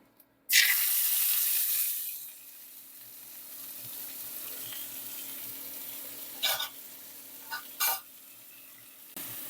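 Onions dropped into hot oil with popped mustard seeds burst into a loud sizzle that settles into a steady, quieter frying hiss, broken by a couple of brief stirring scrapes.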